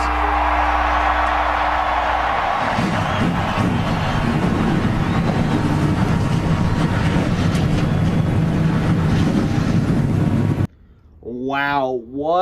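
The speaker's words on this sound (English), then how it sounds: "let's get the command to fire the engines" Stop-motion NASCAR race cars at Bristol firing their engines, a loud sustained roar filling nearly the whole clip after a low rumble at the start, then cutting off abruptly before a brief burst of voice at the end.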